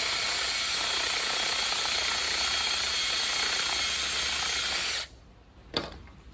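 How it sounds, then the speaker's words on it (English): Ridgid power drill spinning a step bit to ream out the inside of a PVC pipe, a loud continuous grinding whir that runs steadily for about five seconds, then cuts off, with a brief clunk shortly after. "I've got my old trusty old rigid drill here, and I got a step bit."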